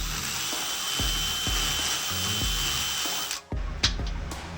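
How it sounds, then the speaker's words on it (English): A die grinder bit spun on a handheld drill works the metal of a Jeep YJ transmission skid. It gives a steady, moderately loud whine with rhythmic low thumps, then stops abruptly and ends in a few short bursts. "Put the old die grinder on the drill, and it's working pretty good."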